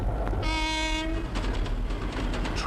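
A Triang Hornby model train set sounds its horn in a steady held blast, set against continuous clattering rail and running noise that carries on after the horn stops.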